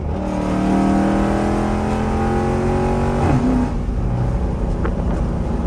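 Rebuilt Dodge Charger with a 392 transmission accelerating hard, its loud engine note climbing steadily and dropping sharply at a gear shift before pulling again, close and continuous with no talk.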